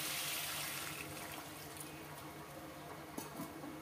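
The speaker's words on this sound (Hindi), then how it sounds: "मसला पानी रखी देदेबा।" Water is poured into cooking masala for a jackfruit curry, a steady close gush of liquid running for a few seconds with no voices.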